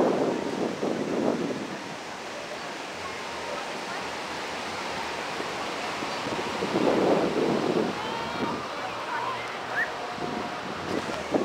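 Surf and gusting wind at Maracas Bay beach in the afternoon, a steady broadband wash of breaking waves with wind buffeting the microphone, swelling at moments, and faint voices in the background.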